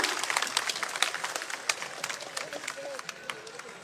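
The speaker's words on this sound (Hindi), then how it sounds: "जोरदार तालियों के साथ" A crowd at a BJP political rally in Malkheda village, Haryana, breaks into scattered, lively clapping that carries on steadily, with a voice faintly audible underneath.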